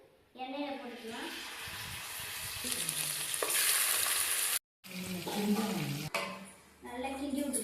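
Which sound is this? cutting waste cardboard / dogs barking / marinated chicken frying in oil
marinated chicken frying in oil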